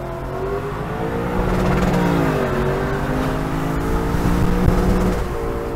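A 2021 Lexus LC 500 Convertible accelerates hard at wide open throttle, its engine note loud and close, rising steadily in pitch through a sustained pull with a brief shift near the end.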